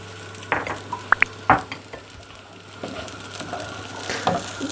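Bulgur stirred in a pan with black pepper, mint and salt, a low steady sizzle under a few sharp clinks and scrapes of a spoon against the pan.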